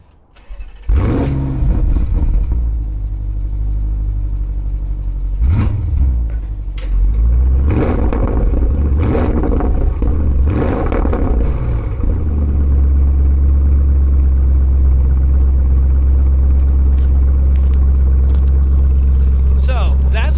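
A 2024 Porsche Cayenne Turbo GT engine starts and idles, heard from outside, with a few revving bursts early on and then a steady low rumble; talking is audible over it.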